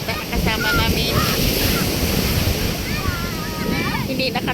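Ocean waves washing ashore at a beach at Canyon Cove resort, with heavy wind buffeting the microphone, a steady roar beneath scattered high children's voices and chatter.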